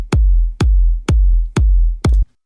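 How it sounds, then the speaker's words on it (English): AI-generated four-on-the-floor house kick drum loop, five deep, punchy kicks in a steady even pulse, loud and dry with nothing else playing. "So make a 4 on the floor kick only"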